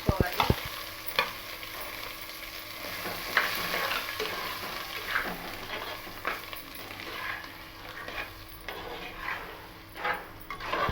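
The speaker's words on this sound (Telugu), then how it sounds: "తాలింపులు వేసుకొని మంచిగా కలుపుకోవాలి" Ripe tindora (ivy gourd) chutney being stirred together with a hot tempering in a pan: close, continuous sizzle under repeated scraping and stirring strokes, with a few sharp clanks at the start, no talk.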